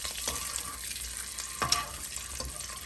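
Fried onions sauté in a pan for egg dum biryani, giving a steady faint sizzle with a few soft stirring scrapes and knocks, close and quiet without talk.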